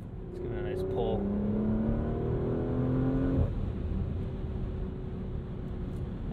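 A 2023 Porsche Macan S SUV accelerating hard, its engine note climbing steadily in pitch through a gear before a sudden drop at the shift, heard from inside the cabin over road noise.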